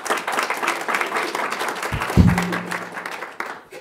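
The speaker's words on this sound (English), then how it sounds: "Let's have a warm round of applause for them" An audience applauds steadily throughout, a dense patter of many hands clapping, with a brief low thump partway through.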